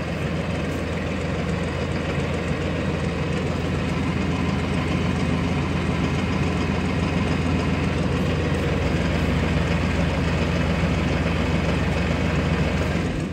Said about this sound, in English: I left the tractor running, hoping it would deter him from coming over here.